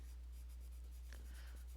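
Colored pencils scratch across paper under firm pressure while a Chris Riddell hug illustration is drawn, giving faint, soft, repeated strokes over a steady low electrical hum, with no talking.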